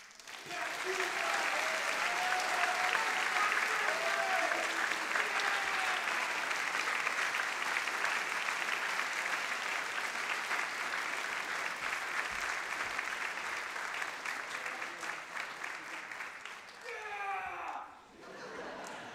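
Sustained audience applause at a high school spring band concert, dense steady clapping from a full hall lasting about sixteen seconds before tapering off, followed by a voice starting to speak.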